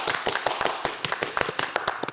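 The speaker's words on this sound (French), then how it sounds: "Applaudissements." A burst of scattered hand clapping from a small group, quick uneven claps filling the whole moment with no voices.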